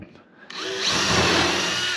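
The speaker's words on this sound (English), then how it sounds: "it's a pain in the butt doing all of these countersinks" A power drill cutting countersinks into southern yellow pine, starting with a short whir and then settling into a steady, close-up grinding drone of the bit biting into the wood.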